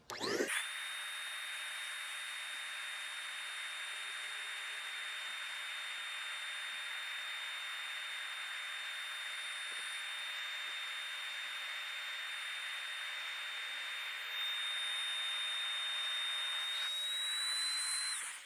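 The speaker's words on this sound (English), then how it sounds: "We've got the pump reversed. We're just gonna kick it on and you'll see how fast it sucks the air out of the mat." A reversed electric air pump runs steadily, pulling air out of an inflatable tumble track mat, a loud continuous whine and rush that starts abruptly, holds for about seventeen seconds, and shifts slightly louder near the end.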